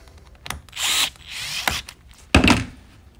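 A power drill tightens terminal screws on a bar mount speed controller circuit board in several short, loud whirring bursts separated by brief pauses, ending with a sharp final burst and a thunk.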